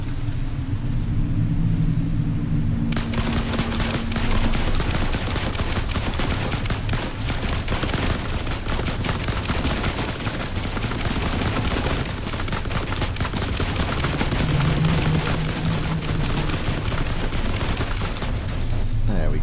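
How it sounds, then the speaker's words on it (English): Rifle fire in the video game The Last Caretaker, rapid shots blending into a dense, continuous barrage of gunfire and rumble that fills the whole stretch alone. "This rifle's pretty effective actually against these nasty things."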